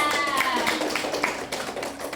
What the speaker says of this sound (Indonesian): Kasih tepuk tangan dulu Mbak Nia